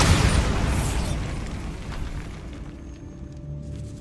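The Bombarda explosion spell goes off in Hogwarts Legacy with a loud, heavy blast at the start, then a long rumbling decay that fades over several seconds.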